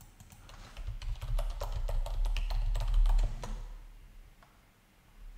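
An IP address is typed on a computer keyboard, giving a quick run of close, light key clicks over a low hum that thins out into quiet near the end.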